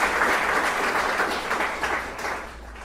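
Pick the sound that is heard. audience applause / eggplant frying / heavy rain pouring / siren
audience applause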